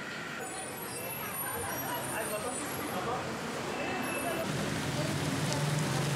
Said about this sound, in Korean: 갑자기 비가 오기 시작한다.